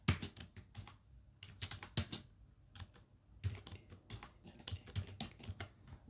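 Rapid, uneven bursts of computer keyboard typing while entering programming code and shortcuts, with key strikes close and crisp and short pauses between runs of keystrokes, and no talking.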